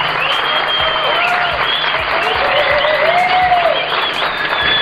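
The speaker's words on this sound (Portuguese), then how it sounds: "Uma salva de palmas para o Marcelo." Audience applause fills a live event: dense, steady clapping from a crowd throughout, with light cheering mixed in.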